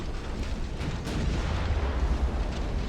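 Shell hits and naval gunfire rumble from a dreadnought-era battle in Ultimate Admiral: Dreadnoughts, a dense, continuous low booming wash with a few sharper impacts, fairly loud and with no voices.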